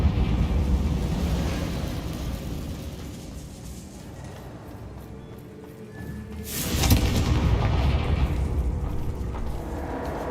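Confringo blasting spell erupting in Hogwarts Legacy, a loud boom with a sharp onset midway over a steady rumbling background, then a sustained roar.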